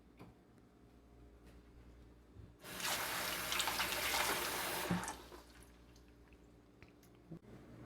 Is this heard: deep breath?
no